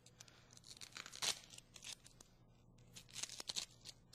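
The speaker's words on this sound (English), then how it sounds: "now we can peel the outer layer off" Papery outer skin is peeled and torn off an onion up close, making soft, intermittent crackles and rips, with one sharper tear, in a quiet room with no talking.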